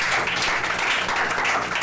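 Audience applause at a French reading competition on stage, a steady dense wash of clapping from a crowd filling the whole moment without pause.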